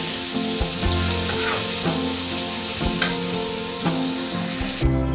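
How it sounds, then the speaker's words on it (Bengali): Bitter gourd pieces fry in a pan for a home festive cooking, a steady loud sizzle with rhythmic stirring scrapes every second or so, with no voices. "এই দেখো উচ্ছেগুলোও ভাজা হয়ে গেছে"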